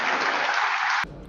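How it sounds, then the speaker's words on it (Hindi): Crowd applause at a spiritual gathering with a saint addressing young people, a dense burst of clapping that cuts off abruptly near the end. "एक बार तालियां तो हो सब मिलकर।"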